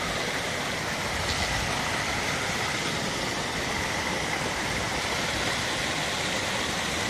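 A temporary waterfall formed by a recent rainstorm pours in a steady, dense hiss and rumble, loud and close and unbroken throughout, with no voices.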